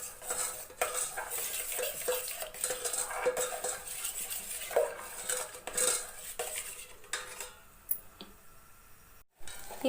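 Cardamom powder being stirred into a madakku sweet, with a spoon clinking and scraping steadily against a metal pan, close and continuous, with a faint sizzle underneath.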